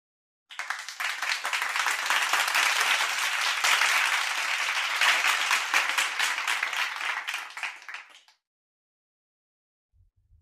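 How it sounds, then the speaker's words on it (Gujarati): A whole class of schoolchildren claps together, dense applause starting abruptly, holding steady for several seconds, then stopping at once, leaving silence. "આખો વર્ગ"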